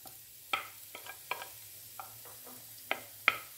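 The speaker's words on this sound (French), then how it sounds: "Je vais commencer par faire rissoler l'oignon avec les carottes parce que les carottes prennent un petit peu plus de temps." Onion, carrots and garlic frying over high heat in a pan, with a soft steady sizzle and several sharp clicks and taps of stirring, heard close and quiet with no talking.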